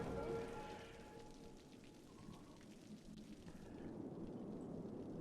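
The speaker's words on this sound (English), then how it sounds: "And it is pouring down rain." Heavy rain pours steadily in the Cities Skylines city-building game, a dense, constant hiss with low rumbling underneath, fairly faint overall and with no speech over it.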